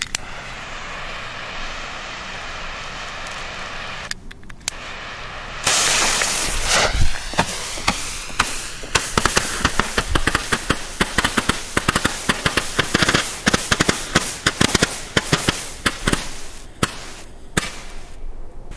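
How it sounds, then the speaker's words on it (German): A Lidl 60-shot flare battery firing in rapid succession: a long string of sharp pops and crackles that starts abruptly after a few seconds of quiet outdoor ambience and continues steadily to the end. "Hier diese Leuchtkugelbatterien, 60 Schuss."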